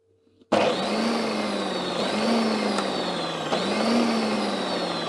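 A secondhand food processor on its pulse setting kicks on loudly and whirs steadily, its motor pitch dipping and surging in three quick pulses close by.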